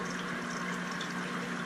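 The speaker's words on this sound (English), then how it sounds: "make sure I've got my pumps going" Clownfish breeding tank with aquarium pumps running, a steady close watery hum and bubbling wash that holds even throughout with no talk.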